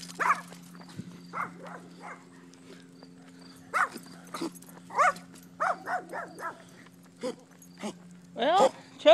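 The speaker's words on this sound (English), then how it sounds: "Make himself sick barking." A German shepherd barks in short, irregular bursts at close range, with steady background hum between the barks.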